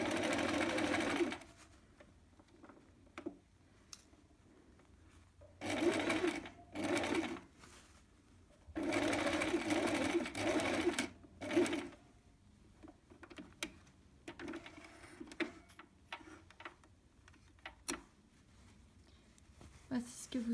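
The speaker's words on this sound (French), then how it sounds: "Vous allez coudre tout autour à 1 cm du bord." Sewing machine stitching around a fabric door draught-stopper tube made from scraps, 1 cm from the edge, in repeated bursts of whirring stitches with short pauses, close and clear.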